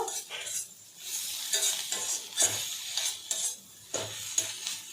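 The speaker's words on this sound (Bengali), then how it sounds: "সব কিছু ভালো করে নেড়ে চেড়ে ভাজা ভাজা করে পুর বানিয়ে নেব" A chital fish filling fries in a pan while a utensil stirs it repeatedly, giving rhythmic scraping and clinking over a constant close sizzle.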